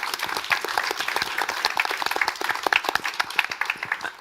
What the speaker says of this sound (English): I would ask everybody for a big round of applause for our panelists.